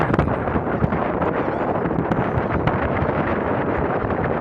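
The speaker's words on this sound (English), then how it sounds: "It's kind of windy out here." Steady wind roars and buffets the microphone, a loud continuous rush with occasional gusty thumps.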